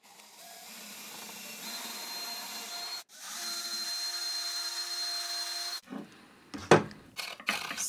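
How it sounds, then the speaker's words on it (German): A power drill with an 8 mm bit drills out a tight hole in a 3D-printed blast gate part in a workshop. It whines in two sustained bursts with a brief break between them, then gives a few short clattering knocks as it stops. "Ich drucke sie lieber ein Zehntel zu eng und bohre sie mit einem 8er Bohrer"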